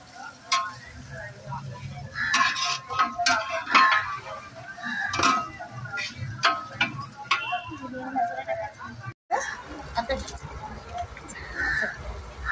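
Marinated vegetables tipped into a biryani pot over a fire, with scattered clinks and knocks of utensils and a soft sizzle running beneath a chatting group of people.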